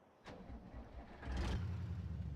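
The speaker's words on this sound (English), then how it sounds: "that's the sound of an engine" An old-school truck engine in a farming video game cranks to life, then settles into a steady low rumble that grows louder and fuller partway through, running alone without talk.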